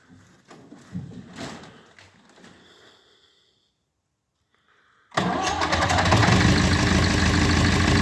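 A David Brown 995 tractor engine is heard after a few faint clanks and a pause, then catches abruptly and settles into a loud, steady diesel idle that carries on to the end.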